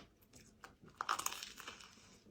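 Someone chewing bread close up: soft, brief crunches and moist bites, quiet at first and then a louder burst of chewing that fades away.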